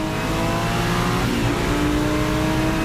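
A Porsche 935 race car engine revs hard and continuously, a loud, dense roar with shifting pitch through the gears, heard alone with no talking.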